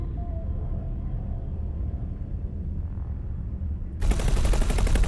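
Ship guns firing in the space game X4: Foundations: a low engine rumble suddenly gives way to a loud, rapid, sustained rattle of automatic fire.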